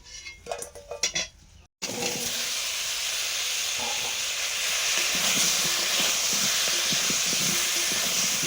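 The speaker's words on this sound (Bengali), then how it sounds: "মাংসের আলুটা হালকা ভাজা হবে, পটলটাও ভেজে নিচ্ছি" Pointed gourd slices and potato pieces go into hot oil in a pan, giving a sudden loud sizzle that settles into a steady, close frying hiss after a brief clatter of handling.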